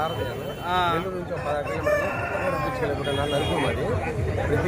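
Roosters crow at a busy Sunday chicken market in Nellore, their loud, drawn-out calls rising repeatedly over a constant hubbub of crowd chatter and speech nearby.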